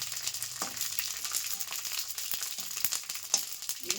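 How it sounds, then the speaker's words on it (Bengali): Sago kurkure snacks fry in hot oil, a steady close sizzle with bursts of crackling and popping spread across the clip and no one speaking. "আস্তে আস্তে সাবুর কুরকুরেগুলো ভেজে নেব আমরা।"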